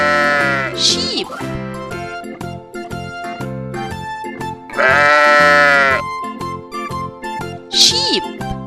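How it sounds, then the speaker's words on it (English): Sheep bleat in wavering, nasal cries, several separate calls spread across the stretch, loud and close over a light musical backing from a children's farm-animal lesson. "Sheep."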